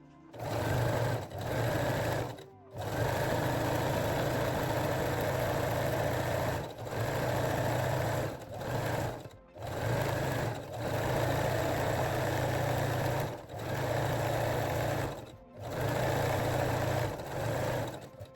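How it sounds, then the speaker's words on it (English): A sewing machine runs in repeated steady bursts while fold over elastic is sewn onto the waistline of high waist panties, each run broken by short pauses, loud and close, with no talk. "Then fold the fold over elastic and sew your waistline again."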